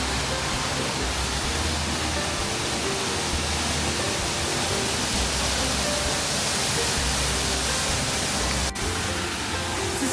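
Waterfall at Silver Falls State Park in Oregon, heard close up as a loud, steady broadband roar of falling water that continues without a break for the whole stretch.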